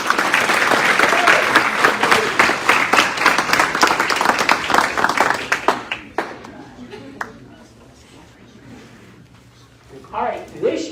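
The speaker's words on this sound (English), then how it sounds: "Another big round of applause." Audience at a school students and employee of the month ceremony bursts into a big round of applause, dense clapping for about six seconds before it thins out and fades, with a few scattered claps near the end.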